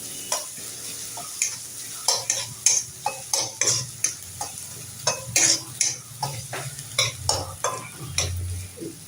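Chopped onion sizzles in hot oil in a pan while being stirred for cauliflower paratha, a steady fry broken by a regular series of sharp scraping stir strokes and light utensil clicks, close and fairly loud with no talking.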